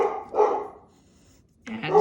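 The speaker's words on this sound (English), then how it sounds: "sorry about the dogs" A couple of dog barks sound in bursts at the start and end, fairly close, with a quiet gap between and a voice speaking over them.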